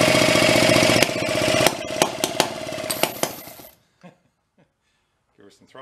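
A pre-war Elgin cycle engine, left sitting in a barn for at least 45 years, chugs and rattles loudly for several seconds with sharp knocks, then cuts out abruptly, leaving a few faint clunks and near-silence.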